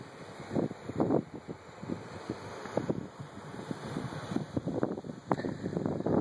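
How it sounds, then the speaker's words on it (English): Steady wind buffets a microphone outdoors on a breezy day in Alabama, with gusty low rumbles and rustling pulses continuing throughout with no voices. "Actually turned out to be a nice day. It's a little windy."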